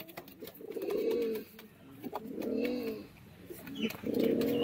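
Benarasi Giribaz pigeons, an old-bloodline adult pair, cooing close by in repeated soft throaty bursts with brief pauses between, with faint chirps in the background.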